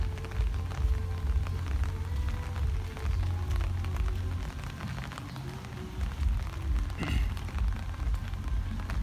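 Steady rain falls on Koh Phi Phi Don, Thailand, a dense, constant patter with a brief brighter splash near the end, no talk over it.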